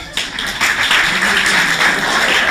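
An audience at an improv comedy show in Seattle claps to vote a performer out of the scene. The close, dense applause starts abruptly and builds into a steady, loud patter.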